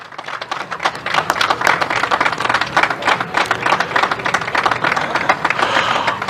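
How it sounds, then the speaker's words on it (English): A crowd applauds the top three rookies on the podium at a Formula Winter Series race in Valencia, steady dense clapping throughout at moderate distance. "And then once again, big round of applause."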